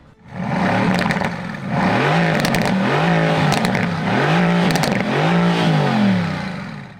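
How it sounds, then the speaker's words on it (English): A Mercedes-AMG GT C engine revs up repeatedly, loud and close, with several rising-and-falling throttle blips over a steady growl. "Beside the GTR, we have the Mercedes AMG GTC. Listen to that engine."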